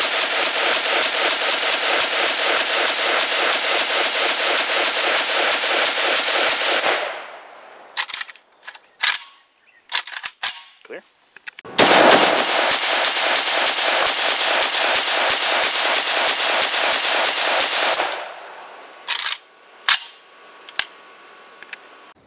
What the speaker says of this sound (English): very first shots.